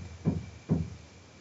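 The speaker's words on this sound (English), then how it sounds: "just random banging from downstairs." Two dull knocks from downstairs, muffled and distant, spaced about half a second apart against a quiet room.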